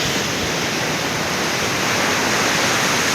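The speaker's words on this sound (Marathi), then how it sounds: "त्या लाटा इथपर्यंत येत आहेत लाटा" Sea waves rolling in at high tide on Velneshwar beach, a loud, steady wash of surf that never lets up.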